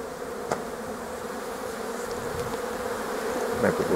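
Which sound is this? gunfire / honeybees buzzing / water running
honeybees buzzing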